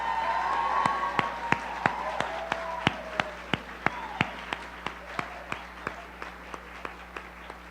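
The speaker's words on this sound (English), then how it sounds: "really loud round of applause." Audience applause at an awards ceremony, a dense wash of clapping that thins and fades, with a few sharp louder claps standing out at a steady pace near the end.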